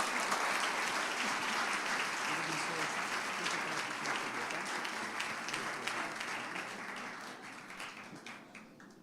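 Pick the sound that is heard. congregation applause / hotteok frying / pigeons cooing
congregation applause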